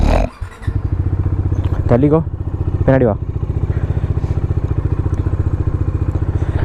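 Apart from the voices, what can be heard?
motorcycle (Dominar bike) engine warming up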